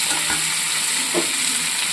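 Carrots and potatoes frying in oil with salt and turmeric, a loud continuous sizzle with light stirring scrapes, close and without any voices.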